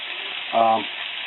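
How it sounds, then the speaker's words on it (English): Meat for a Rotel dip just starting to fry in a pan gives a steady, close sizzle throughout, with a brief tonal blip partway through. "Get that starting to fry up"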